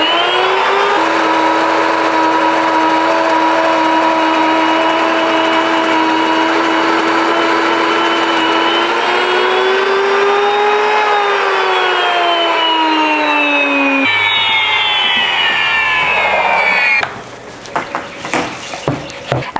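Electric grain mill on its pastry setting grinding soft white wheat berries into fine flour, a loud steady whine with a dense mechanical roar that shifts pitch partway through before cutting off near the end.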